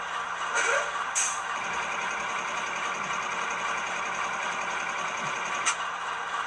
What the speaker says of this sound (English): 20 is going to be your compressor, which we've already heard like a million times, but here we go again.